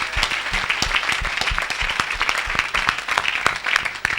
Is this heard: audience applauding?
yes